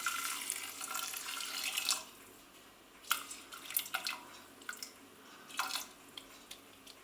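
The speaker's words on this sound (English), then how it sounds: "I'm going to add 1 3/4 cups of boiling water." Boiling water is poured into a pan of red quinoa, a steady splashing pour that runs for about two seconds, then trails off into a few scattered trickles and drips, close and moderately loud.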